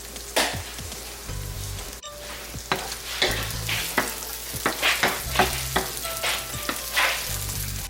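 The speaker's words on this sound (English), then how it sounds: "You want to put your smoked sausage into the skillet, and you want to fry these for a few minutes." Smoked sausage sizzles and crackles in hot oil in a skillet, a steady close frying hiss broken by repeated clacks and scrapes of a utensil turning the links.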